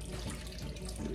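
Water poured into a pot of rice for pulao, a steady running splash like a tap filling a vessel, continuous and fairly close throughout the short moment.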